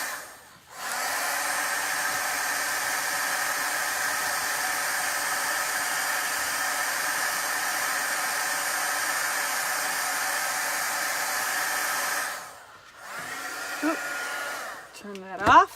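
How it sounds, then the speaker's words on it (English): A heat tool blows hard and steady while drying chalk paste on a craft project, a broad rushing whoosh lasting about twelve seconds before it switches off, followed by small handling clicks and taps. "So I'm going to heat dry this a little bit."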